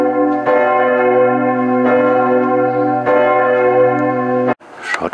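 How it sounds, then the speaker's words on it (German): Church bells ring out loud and close in a German town of half-timbered houses near the Söse dam in Osterode, three strong strikes with long humming sustain before the ringing cuts off into rustling noise. "wenn die Kirchenglocken läuten."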